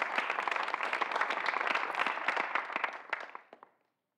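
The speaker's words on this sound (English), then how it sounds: "Pause for an applause there." Brisk applause from an audience greeting news of a former Massachusetts governor named to lead a nonprofit, dense clapping at even loudness that thins and fades out near the end.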